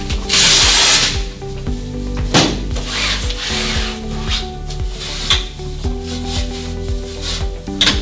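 A rag wipes the underside of wooden arm boards with repeated rubbing, scuffing strokes, close and fairly loud, with knocks of wood on wood.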